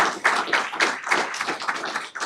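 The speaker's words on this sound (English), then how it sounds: "So let's do another big round of applause for Turner School" Audience applause in a school board meeting hall, a dense steady patter of many hands clapping at moderate distance, with slight swells throughout and no talk over it.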